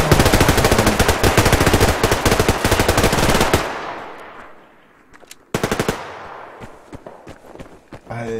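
Automatic gunfire in the online shooter Survarium, rapid dense bursts of shots filling the first few seconds, then a pause with decaying echo before another short, loud burst and scattered single shots.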